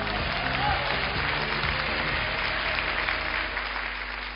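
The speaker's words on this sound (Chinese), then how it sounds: "再一次热烈掌声" A theatre audience claps warmly at the end of a balloon-comedy stage show, sustained applause that swells early and then gradually tapers off.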